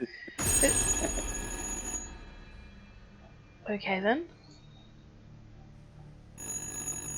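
An old telephone rings in the horror video game Little Hope, a loud repeating electronic ring over a steady background hum, with a voice speaking briefly partway through.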